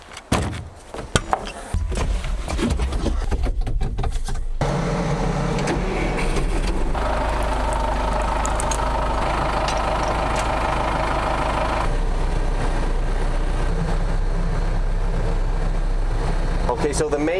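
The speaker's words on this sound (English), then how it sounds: "I need to go get the tractor here so that I can pack everything easier." A tractor engine starts at an off-grid log cabin building site after a few knocks and clunks, then settles into a steady, loud, low rumbling idle heard close up.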